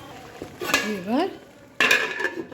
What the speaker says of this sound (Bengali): ঢাকনাটা ঢেকে দিলাম